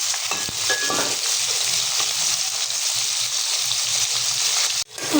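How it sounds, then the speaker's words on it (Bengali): Bata fish frying in a pan gives a loud, continuous sizzle close by, with a few utensil clinks early on and a sudden brief drop near the end. "মাছটা ভেজে নিতেছি, বাটা মাছ"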